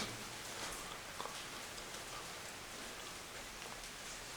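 Steady rain hisses continuously, a soft broadband wash with occasional faint drop ticks, fairly quiet and with no voices.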